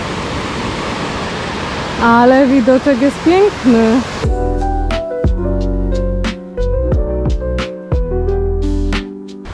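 A waterfall at Hai Van Pass, Da Nang, gives a broad, steady rushing roar. A person speaks over it for a few seconds before the roar gives way to music.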